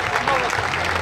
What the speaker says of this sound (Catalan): Un aplaudiment ben fort,